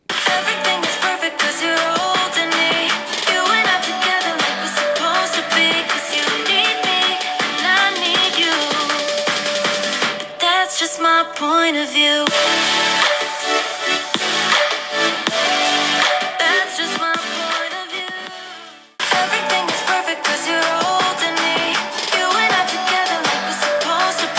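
Bright, busy music plays through an iPhone 15 stereo speaker, dense and slightly thin, continuing steadily with one brief dip near the end.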